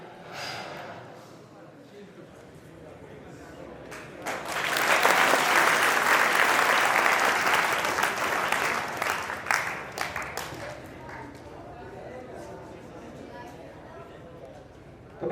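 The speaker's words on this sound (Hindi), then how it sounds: "जोरदार तालियां" At a motivational seminar held by a science academy in Bundi, an audience bursts into loud sustained applause that builds, peaks, then thins out into scattered claps. Mixed voices and murmurs run through the crowd.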